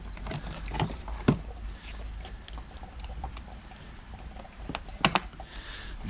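Windscreen washer fluid draining out of a removed washer bottle on a Nissan Micra SR20, a soft trickling and sloshing under light clicks and knocks, near and with no talk.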